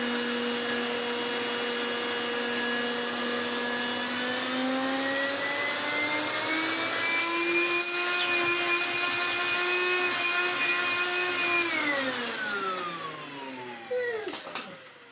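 A Hoover Turbomaster Electronic Total System vacuum cleaner runs steadily on minimum power with the hose attached, a loud close motor whine with stable harmonics that rises slightly in pitch, then drops away as it winds down near the end.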